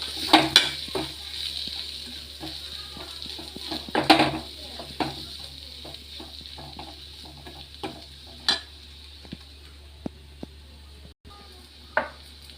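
A beef roast seasoned with turmeric and garam masala is stirred in a pan, with soft frying beneath and repeated scraping and clinking strokes of a spoon against the pan.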